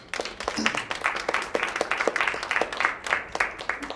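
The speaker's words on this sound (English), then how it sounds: "How about a round of applause for our fellows?" Audience applause for program fellows at a fellowship presentation event, a dense patter of many hands clapping steadily and moderately loud throughout, with no one speaking over it.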